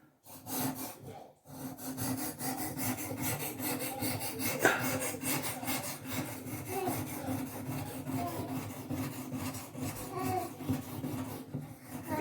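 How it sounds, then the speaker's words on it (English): Knife drawn across a fine grit whetstone in steady, quiet rasping strokes, a soft rhythmic scraping repeated close up with brief pauses. "put a nice smooth primary edge with the fine grit stone"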